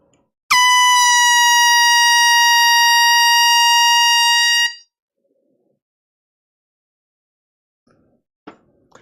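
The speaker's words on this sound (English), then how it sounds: "there's 3 people sending us air horns now" A single loud, sustained air horn blast lasting about four seconds, harmonically rich and steady, cut off sharply, followed by near silence with a couple of faint clicks.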